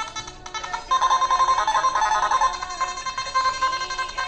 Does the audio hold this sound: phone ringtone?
yes